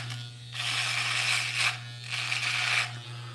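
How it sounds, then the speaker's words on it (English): Steady buzzing of electric hair clippers shaving off hair at a charity head-shaving event, with two long passes through the hair over a constant motor hum, close and fairly loud, with no talking. "I'm gonna go ahead and finish shaving all this off of here."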